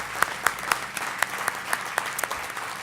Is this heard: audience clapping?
yes